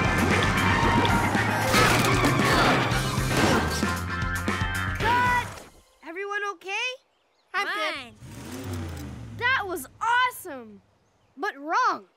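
A loud clattering crash as a toy car hits toy cones, followed by several short bursts of excited children's voices.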